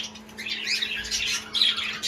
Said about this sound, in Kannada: ಇವಾಗ ನಮ್ಮ ಬರ್ಡ್ಸ್ಗಳು ಏನು ಮಾಡ್ತಾವ್ರೆ ನೋಡಬೇಕು